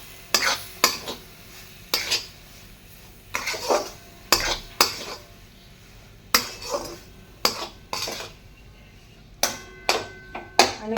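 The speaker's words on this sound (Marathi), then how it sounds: "छान असं परतून घ्यायचं आहे." Semolina and coconut mixture being stirred and sautéed in a pan with milk, a utensil scraping and clinking against the pan in repeated, fairly regular strokes, close up with no talking.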